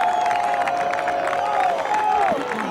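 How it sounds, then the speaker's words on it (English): Excited crowd at a high school football championship game cheering and shouting as everyone stands before kickoff, a sustained roar with scattered whoops, with a whistle-like tone above it. "an excited crowd as everyone stands up to root on East Brunswick"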